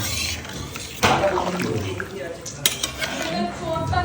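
Hot water poured into a pot of red rooster curry, with metallic clanks of a utensil against the pot and a splashing rush amid ongoing kitchen clatter while people talk in Bengali.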